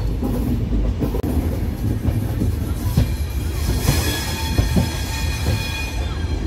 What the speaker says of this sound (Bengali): একে বেঁকে ট্রেনটি বেরিয়ে আসছে বন্ধুরা